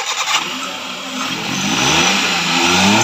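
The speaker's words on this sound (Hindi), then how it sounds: "अभी गाड़ी स्टार्ट है" A Hyundai Eon Era engine idles and runs steadily after tappet adjustment, its low rumble rising slightly in revs toward the end, close by with no talking.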